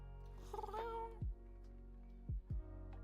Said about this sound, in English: I haven't seen an owl cat in a very long time.